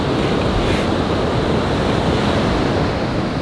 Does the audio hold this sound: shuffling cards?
no